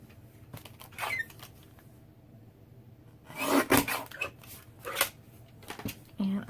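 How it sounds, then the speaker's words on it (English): Paper scraps being trimmed with scissors, producing a handful of scraping, rasping snips and rubbing sounds close up, with a person talking softly in between. "So now I'm just going to trim a little bit off the bottom here."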